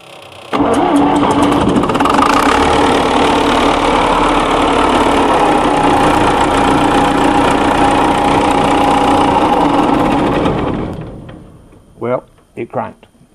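A truck engine cranks on the starter through its starter solenoid, a loud continuous churning grind held for about ten seconds before it cuts off. A few short knocks follow in the quiet afterward.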